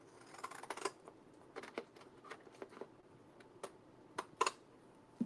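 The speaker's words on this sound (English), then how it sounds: "I need to cut the bottom." Scissors snip through journal paper in a crafting session, a close, quiet series of crisp irregular cuts and blade clicks, with no voice heard.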